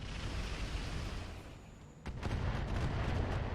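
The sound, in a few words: weapons firing at light tank in RogueTech video game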